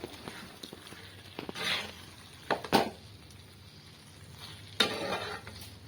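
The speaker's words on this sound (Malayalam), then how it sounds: "അപ്പോൾ നല്ലൊന്ന് ഇളക്കിയിട്ട് ഒന്ന് നല്ലൊന്ന് വേവാൻ വെക്കാം" Oyster meat with coconut pieces being stirred in a pan, a low sizzle under a few sharp scrapes and clanks of the spoon against the pan, close and intermittent.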